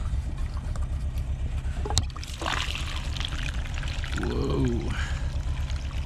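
Gasoline pours through a funnel into the tank of a 1969 Volkswagen Beetle in the snow, a steady gurgling trickle, close and continuous, with a brief clunk of the can and a short exclaimed voice.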